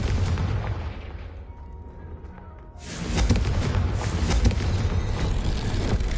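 A Confringo blasting-curse explosion in a sorcery video game erupts as a loud, deep boom with a broad rumble that dips briefly, then surges again and keeps roaring under a voice.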